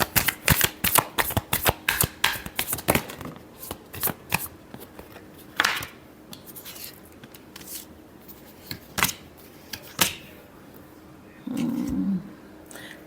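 Tarot cards are shuffled by hand in rapid riffling bursts, dense and crisp at first, then sparser snaps and taps close to the microphone, ending with a brief soft rustle.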